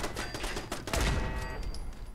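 Enemy gunfire in Fallout 4, a dense burst of rapid shots with a heavier boom partway through, loud and continuous with no talk.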